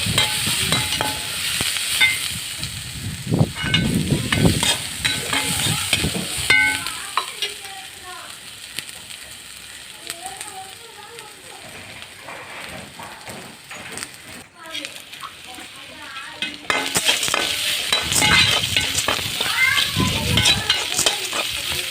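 Snake gourd for chana dal kootu is sautéed and stirred in a pan, a loud close sizzle with busy scraping that eases in the middle and builds again, while a voice talks over parts of it.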